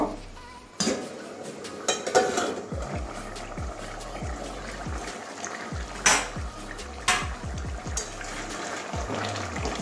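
A pot lid lifts with a few sharp metallic clanks and clatters over a low background hum while chicken posto curry with potatoes cooks in a Bengali-style kitchen. No one speaks.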